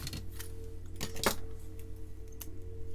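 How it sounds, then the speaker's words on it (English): Outdoor tree removal by arborists in a residential complex, heard as scattered clacking knocks and sharp bursts with one louder crack, over a steady low machine drone in the distance. "The arborists are here taking out trees in the complex I live in."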